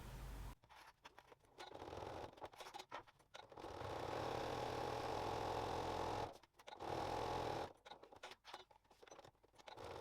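Sewing machine running a line of stitching around a decorative fabric strip on a weekend bag, long whirring runs with a fast even needle patter and brief stops, close and fairly quiet.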